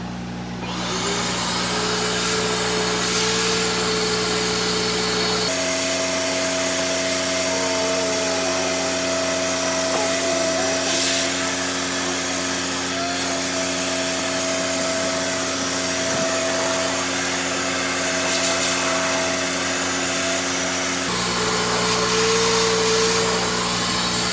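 A vacuum cleaner sucks up fish food at an aquarium tank, running steadily with a loud whining motor drone, its pitch shifting as the suction changes, with faint rattling of small bits being sucked up.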